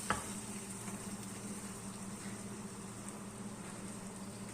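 Meatballs and vegetables fry together in a pan, a faint, steady sizzle with a hint of stirring, quiet and continuous after a brief knock at the start.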